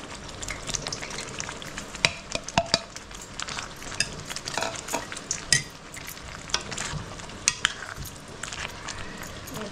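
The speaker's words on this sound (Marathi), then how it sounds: "पनीर घेतलेलं आहे ते घालते याच्यामध्ये बघा" Paneer is added to masala frying in a pan and stirred, producing a steady sizzle under repeated scraping and clinking of a spoon against the pan.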